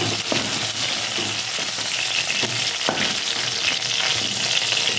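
Okra crackles and sizzles steadily in hot oil in a pan, with periodic scraping and stirring strokes as the pieces are turned and lifted out; close and continuous, no talking.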